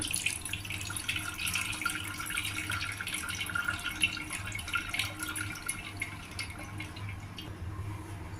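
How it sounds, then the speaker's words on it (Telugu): Water drips and trickles from curdled milk as it is squeezed through a strainer, a faint, continuous patter with small splashes at close range and no voices. "ఇప్పుడు మళ్ళీ చన్నీళ్ళు పోసుకుని కూడా ఇలాగే స్టైనర్లోను మనం నీళ్లు పిండేసేయాలి"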